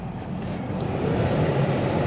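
Newly replaced blower motor fan in a 2016 Dodge Durango running at a steady, even whir, a smooth broadband rush of moving air that holds constant, close and moderately loud, with no talk.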